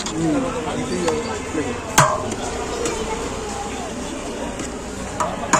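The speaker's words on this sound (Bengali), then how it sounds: "বিরিয়ানিটা কি করে মেশাচ্ছে দেখুন।" Biryani is mixed in a large pot, a ladle scraping and knocking against the metal in irregular strokes with a few sharp clanks, amid steady background chatter of a busy eatery.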